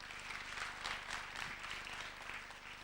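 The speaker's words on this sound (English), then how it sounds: "Could we just have another round of applause for Damien, please?" A live audience applauds at an indoor collections event, a soft, fairly distant patter of many hands that stays even throughout.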